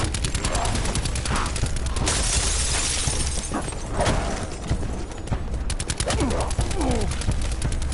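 Call of Duty Black Ops 4 zombies gunfire, bursts of rapid automatic shots mixed with impacts and in-game voice shouts, loud and busy with near-constant fire.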